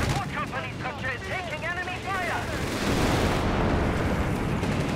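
Strafing gunfire from an anti-infantry loiter air strike in Company of Heroes 3, a dense crackling barrage that swells louder in the second half, with a voice talking over the first half.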